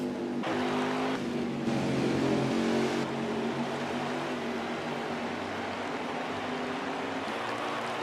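Race trucks roaring around the New Hampshire track in a racing video game, a steady dense engine drone with shifting tones as the pack passes, continuous and loud throughout.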